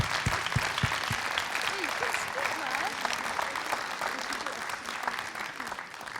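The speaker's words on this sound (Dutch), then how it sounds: "En nog een Goed applaus." Sustained audience applause at a children's poetry recitation contest in Panningen, dense clapping filling the room, with a few louder claps near the start and voices murmuring underneath as it gradually tapers off.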